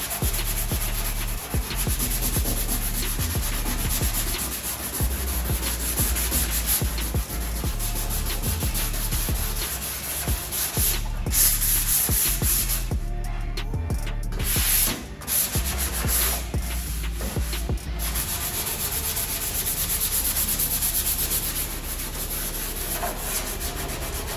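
Continuous hand sanding of body filler on a car guard panel with 80 grit paper, a steady close abrasive rasping with brief pauses and no talking.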